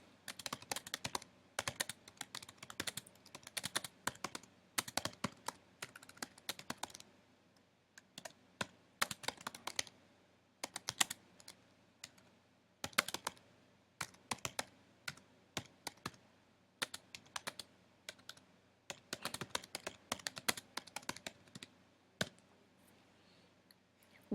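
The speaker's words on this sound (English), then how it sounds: "we now type in the name of this article" Keys clack on a computer keyboard in irregular bursts of rapid typing separated by short pauses, close and crisp with no talking.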